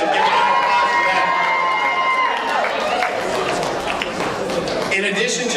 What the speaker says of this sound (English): So give it an applause for that